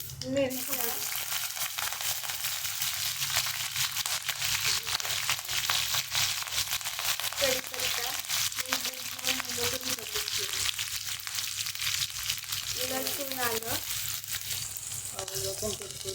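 Mustard seeds and cumin sizzle and crackle steadily in hot oil in a home kitchen, the start of a traditional pea rice, with faint voices briefly rising above the frying.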